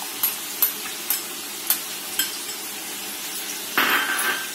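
A utensil clinks against a pan at a steady rhythm, then a loud burst of oil sizzling as chicken fries with ginger-garlic paste for chicken karahi.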